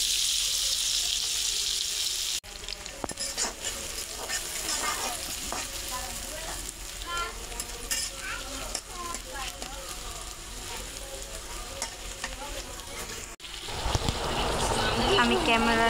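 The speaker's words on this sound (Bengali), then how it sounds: "তেলটা গরম হয়েছে, আমি এখন পেঁয়াজটা দিয়ে দেব" Onion frying in hot oil in a pan on a home stove, a steady close sizzle broken by stirring and clatter, with a brief flare of louder hissing near the end as more goes into the pan; a voice speaks over it.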